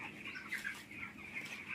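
Chickens about twelve or thirteen days old cluck softly inside a poultry shed, a faint, steady murmur of calls with no one speaking.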